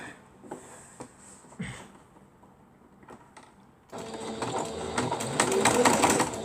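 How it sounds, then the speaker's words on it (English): After scattered handling noises, a sewing machine starts up and runs steadily, a continuous loud mechanical whir with rapid needle clatter stitching fabric, close by. "and then start sewing it down"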